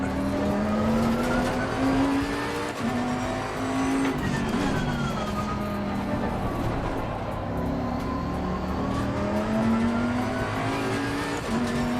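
A Bentley GTC race car in the Assetto Corsa racing game at the Hungaroring, its engine droning and revving up and down through gear changes with tire squeal, loud and continuous throughout.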